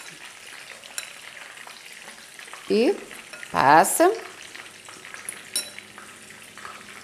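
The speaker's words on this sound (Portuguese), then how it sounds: "E vamos fritando." Meatballs coated in egg and breadcrumbs fry in a pan with a steady close sizzle, swelling into two louder bursts as more go into the oil, while someone speaks briefly.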